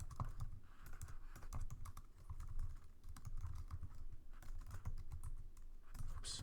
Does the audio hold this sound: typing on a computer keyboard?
yes